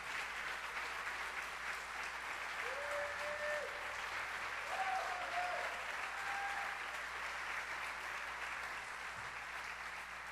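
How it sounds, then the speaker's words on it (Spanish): Steady applause from a church congregation at a Sunday service, a sustained even roar of many hands clapping, with a faint voice briefly audible beneath it. "Aplauda, aplauda, que voy a beber un poco de agua,"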